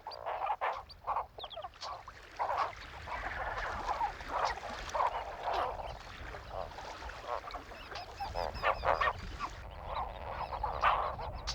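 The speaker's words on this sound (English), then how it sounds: "Huge colonies of flamingos come to the lake where they sieve the water in search of algae and crustacea" Dense colony of greater and lesser flamingos calling at a lake in Ngorongoro, with many overlapping honking, goose-like calls forming a continuous chorus at moderate distance.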